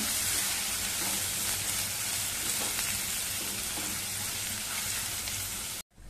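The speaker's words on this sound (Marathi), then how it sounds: "आणि चिरून घेतलेला कांदा घालूया. कांदा छान आपल्याला परतवून घ्यायचा आहे." Chopped onion sautéing in a hot pan for a stuffed ridge gourd curry, a steady close sizzle and crackle of frying with no talk, cutting off abruptly near the end.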